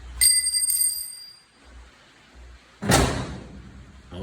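A replacement door on a Chevy Apache pickup slams shut once with a solid, loud thud, preceded by a few bright ringing metallic tones and quiet handling noises.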